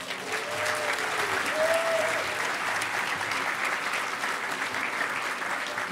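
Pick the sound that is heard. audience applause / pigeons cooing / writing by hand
audience applause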